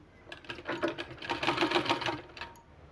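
A sewing machine stitches a fabric sleeve in a quick rattling burst, the needle clattering rapidly for a couple of seconds at moderate volume before slowing to a stop.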